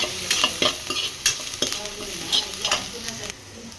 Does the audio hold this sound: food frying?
yes